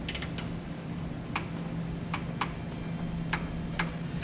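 Ratcheting clicks from a 15mm socket wrench torquing bolts on a Roadmaster crossbar-style base plate kit for a 2017 Jeep Cherokee, close and fairly crisp, in irregular short bursts over a low steady hum.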